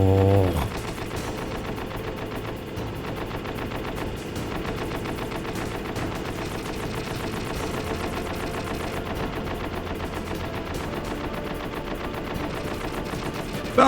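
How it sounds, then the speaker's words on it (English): Sustained rapid automatic gunfire in a Metal Gear Solid video game rattles on without pause, loud and dense from start to finish. "Stop fucking shooting."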